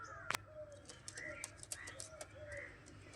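Pigeons coo in repeated short calls at a loft, moderately close, with a sharp clatter early on and scattered clicks and faint chirps between the calls.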